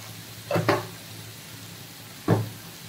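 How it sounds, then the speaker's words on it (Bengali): Spiny gourd (kakrol) fries in a pan as it is stirred, with two quick spatula scrapes in succession and a third a moment later over a faint background sizzle. "এবার নাড়িয়ে নেব, ভেজে নেব।"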